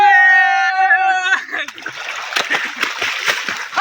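Water splashing and sloshing in irregular bursts, following a sustained harmonic tone at the start, with people talking over it nearby.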